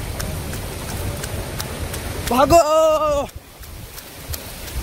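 Heavy rain hisses steadily outdoors as a voice shouts briefly over the downpour.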